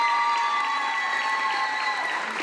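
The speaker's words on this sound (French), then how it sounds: "On peut les applaudir s'il vous plaît." Steady, dense applause from an audience at a Miss Belle en Forme NPDC 2025 pageant, a continuous wash of many hands clapping close by, holding at an even level throughout without talk.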